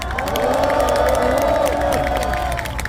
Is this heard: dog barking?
no